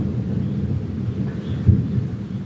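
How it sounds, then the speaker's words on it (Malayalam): A low, rolling rumble of thunder follows lightning, sustained and fairly distant, with a slightly stronger swell near the end. "ചിലപ്പോൾ മിന്നൽ എറിഞ്ഞതുകൊണ്ട് ഒരു ഇടി കേൾക്കാനുള്ള സാധ്യതയുണ്ട്"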